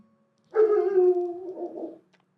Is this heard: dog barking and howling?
yes